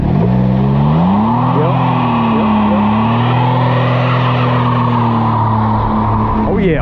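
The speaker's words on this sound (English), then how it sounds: "she know how to burn out now" A stock 2021 Can-Am Ryker Rally three-wheeler does a burnout, its engine holding a loud steady drone while the rear tire squeals continuously for several seconds, close by.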